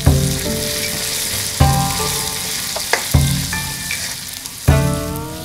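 Minced meat hits hot oil in a wok already holding scallion whites, ginger, garlic and chopped shiitake, then sizzles loudly and steadily while being stirred, with several sharp bursts of clatter and scraping as the spatula tosses it.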